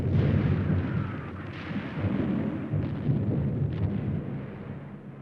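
Deep, rumbling barrage of artillery fire and explosions from the Red Army assault on Berlin in 1945, a sustained roar with heavy booms rolling into each other, loud and without speech.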